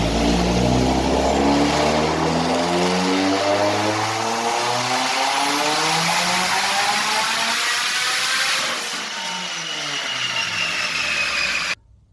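Built Subaru WRX engine on a dyno pull at 38 PSI boost, a loud, continuous rising roar with climbing harmonics that peaks, then falls away as the throttle closes before cutting off abruptly near the end.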